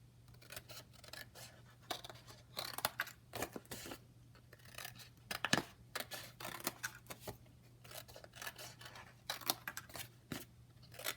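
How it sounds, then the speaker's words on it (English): Scissors snip the corners off paper for a handmade baby mini album, a close, quiet series of short cutting and rustling sounds spread across the stretch, over a faint steady hum. "and then I'm gonna cut the corners."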